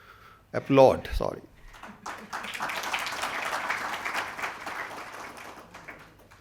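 Applause from a conference audience at a celebration of insolvency reforms, a steady wash of clapping rising after a brief spoken phrase and holding for several seconds at moderate level.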